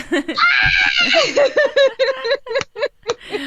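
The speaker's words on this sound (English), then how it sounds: "Everybody screams." A group of people at a campfire scream together in a loud, sustained burst, trailing off into broken shrieks and laughter-like yelps.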